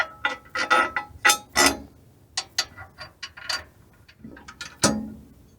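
A hand ratchet tightens nuts on a lower control arm skid plate being installed on a rig, with quick clicking bursts in short uneven runs, close and fairly crisp, with no talking.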